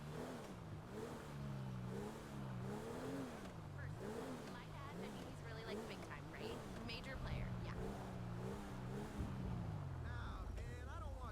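Video game car engine in Grand Theft Auto V, revving and rising and falling in pitch as the vehicle drives along, with someone talking steadily over it throughout.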